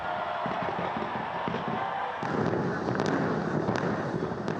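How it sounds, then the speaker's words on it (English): New Year fireworks over Auckland on a cloudy night, a dense rumble of distant bursts with sharp crackling pops and several louder bangs toward the end, heard from afar amid crowd noise. "where the first fireworks of 2024 illuminated the cloudy night"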